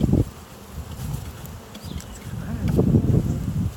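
Many honey bees drone around a hive in a steady, close buzz that swells and fades slightly, with no voices.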